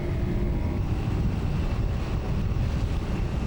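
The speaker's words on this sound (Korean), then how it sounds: "오늘은 모터보트가 숨가쁘게 움직여야 한다." A motorboat running across the sea near a rocky island, a steady loud low rumble of engine and rushing water mixed with wind buffeting the microphone, no pauses.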